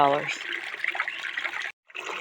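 A small pond water pump drives a fountain, sending out a steady close rush of splashing, trickling water that cuts out briefly near the end before resuming. A short voice is heard at the very start.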